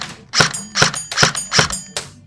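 An airsoft gun fires in semi-automatic mode at an indoor shooting house, four sharp, evenly spaced shots about half a second apart, close and loud, with one fainter final click and no talking.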